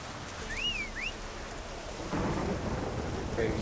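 Steady rain hiss at sunset in the video game The Witcher 3: Wild Hunt, with a low rumble of thunder building partway through, and a couple of bright whistling bird-like calls early on.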